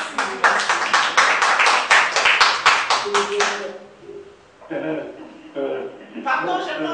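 A small audience claps after the announcement of a passed master's thesis defense, with about three seconds of brisk, close applause followed by talking voices.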